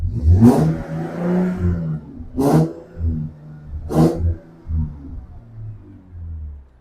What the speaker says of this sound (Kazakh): Газ тебейинби? Давай. Выхлобун текшерейинчи, барбы жокпу?